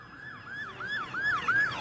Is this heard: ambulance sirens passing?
yes